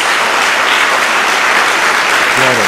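A church congregation claps loudly and densely together, a thick continuous wash of applause, with a voice starting to speak over it right at the end.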